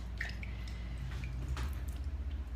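Soft wet squishing and dripping as a historical hair piece soaked with powder and pomade is gently scrubbed by hand in water, brief quiet squelches with faint drips.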